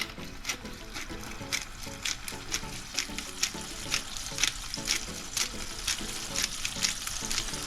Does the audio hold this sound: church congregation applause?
no